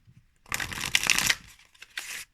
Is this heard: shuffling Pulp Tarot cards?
yes